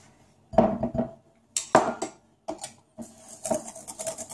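Butter and sugar being mixed in a bowl for an almond pear tart, with a series of clattering utensil knocks and scrapes against the bowl in irregular bursts, close and moderately loud, no talk.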